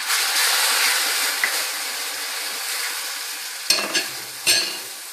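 Orange halwa mixture roasting in a pan as milk is poured in and stirred, a steady broadband sizzle running throughout with a few sharper scraping stirs near the end; no talking.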